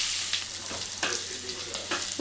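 Onions and garlic cooking in a pan for Telangana-style fish curry give a steady close sizzle, with a few louder scrapes as they are stirred and no talking.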